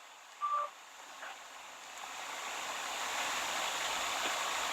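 A short telephone dialing tone sounds while a call is being connected, followed by a faint second beep, then a rising steady hiss of line noise fills the rest.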